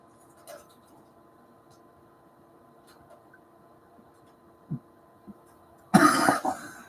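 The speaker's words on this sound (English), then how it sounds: "I hate that when you go to take a drink and you start to have to cough at the same time." A person coughs sharply while trying to take a drink, a burst of harsh coughing near the end after a few faint throat sounds, close and loud in an otherwise quiet room.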